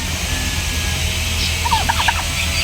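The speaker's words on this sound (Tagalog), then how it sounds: "ito po sila ngayon na bourbon red ang natira sa akin ito po yung aking magiging breeder" Bourbon Red turkeys kept as breeding stock gobble in a quick rattling burst in the latter half, loud and fairly close over a low steady background hum.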